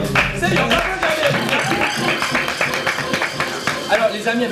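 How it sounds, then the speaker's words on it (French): A TV studio audience claps in a loose, uneven burst, the clapping mixed with nearby talk and some background music rather than heard alone. "C'est bien, on applaudit."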